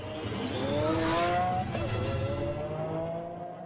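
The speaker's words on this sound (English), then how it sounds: "the prototype model takes to the track to be put through its paces for the first time" A Lamborghini Aventador prototype drives on a test track in 2008, its engine climbing loudly in pitch as it accelerates, then shifting and fading as the car pulls away.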